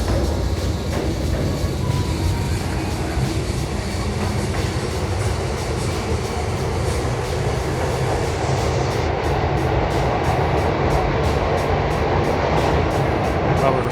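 A Pyongyang metro train in North Korea rumbles steadily between stations in a tunnel, a constant loud roar with faint rhythmic wheel clatter throughout.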